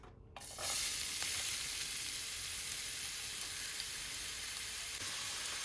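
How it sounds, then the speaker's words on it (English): Chopped onions hit hot cooking oil in a pan for a cottage pie, bursting into a loud, steady sizzle that starts abruptly and continues evenly, with no voices. "I'm going to add in my chopped onions"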